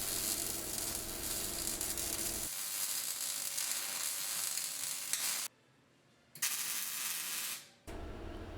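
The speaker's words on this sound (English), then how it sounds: "Now it's time to weld the bottom hinge plate to the bumper." MIG welding a bottom hinge plate onto a steel bumper crackles and sizzles in steady close bursts, with the arc stopping twice for short pauses before starting again.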